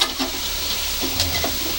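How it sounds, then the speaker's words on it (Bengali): Bori lentil dumplings fry in a pan with a steady crackling sizzle and occasional stirring scrapes, close and continuous with no voices. "হয়ে গেছে, এবার বড়িটা ভাজছি।"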